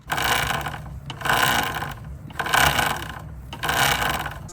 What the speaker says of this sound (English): nothing beats the sound of an old dry chain on a brand new sprocket